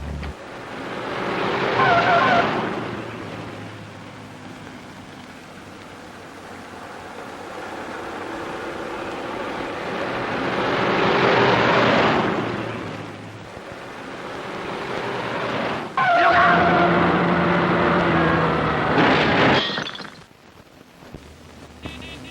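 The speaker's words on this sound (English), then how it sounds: "There's a car following us." A car driving during a chase in a 1960 crime film, with engine and road noise swelling and fading in long surges, then an abrupt burst and cut toward the end.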